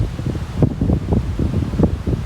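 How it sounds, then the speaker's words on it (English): Strong wind gusting across a Kansas farm, a loud, continuous low roar and buffeting against the microphone that swells and pulses irregularly throughout, with no one talking. "it's pretty windy here. I'm on her farm."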